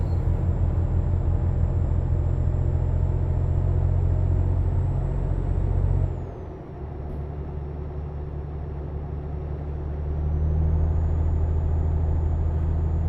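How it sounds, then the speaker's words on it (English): Inside a truck cab on a Spanish highway, a steady heavy engine drone and road rumble dips briefly and then builds again as one truck overtakes another, with no talking. "a truck overtaking a truck"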